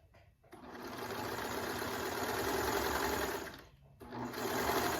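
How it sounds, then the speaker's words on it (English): Sewing machine stitching a knit neckband on a raglan top, running in a loud, close continuous whir, pausing briefly near the middle and then starting again. "let's go ahead and sew that neckband"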